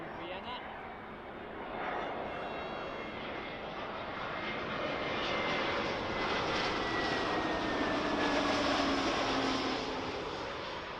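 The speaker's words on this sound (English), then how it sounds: "This is the Austrian A320 Neo" An Austrian Airlines Airbus A320neo arriving from Vienna lands at London Heathrow on runway 27L, its engine roar swelling and whining as it passes fairly close, steady and loud throughout.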